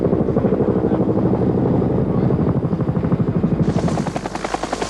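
Australian-supplied Iroquois military helicopters drone loudly and close with a fast rotor chop over a deep engine hum, the blade beat steady throughout and turbine whine brightening near the end.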